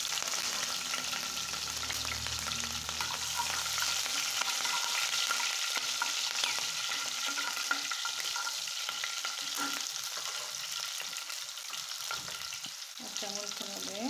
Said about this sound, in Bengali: কাঁচামরিচ দিয়ে দিচ্ছি